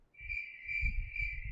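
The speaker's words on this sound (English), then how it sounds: "Crickets." Crickets chirp in a steady, continuous high trill, fairly loud and close, while low rumbling handling or background noise rises and falls underneath.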